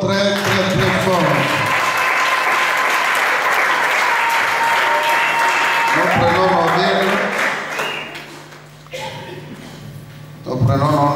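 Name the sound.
congregation applauding loudly in church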